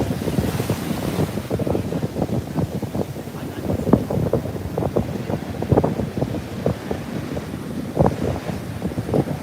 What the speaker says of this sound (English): there's some big waves out there